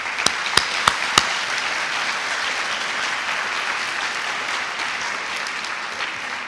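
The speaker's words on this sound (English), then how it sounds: "With your applause, seniors," Graduation audience applause: a few sharp, close claps ring out at the start, then a broad, steady wash of clapping from the assembled crowd carries on evenly throughout.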